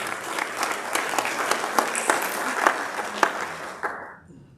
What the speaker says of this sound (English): a round of applause very enthusiastically for our own Ms. Fari.